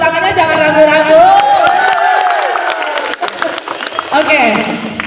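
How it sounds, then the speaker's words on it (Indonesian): Audience applause at a teacher training session in a school building, a steady wash of clapping and crowd noise mixed with cheering and voices, with a loud close speaker talking over it. "Sehingga kasih tepuk tangannya, jangan ragu-ragu."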